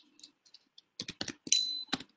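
A command is typed on a computer keyboard, with sparse light clicks at first and then a quick burst of sharp, close keystrokes.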